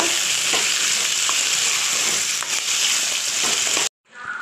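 Small Indian gooseberries for pickle sauté in oil, a loud, even crackling sizzle that runs close-up for several seconds before cutting out abruptly and faintly resuming.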